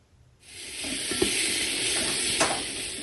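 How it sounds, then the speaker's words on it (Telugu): Ginger garlic paste, mint and coriander sautéing in a pot, a steady loud sizzle that starts abruptly and holds throughout, with a couple of brief stirring knocks against the pot. "ఆనియన్ వాడినాక జింజర్ గార్లిక్ పేస్ట్ వేసి ఒక 1 minute వాడ్చేసి నెక్స్ట్ పుదీనా, కొత్తమల్లిని వేసి ఒక 10 seconds వాడ్చాల."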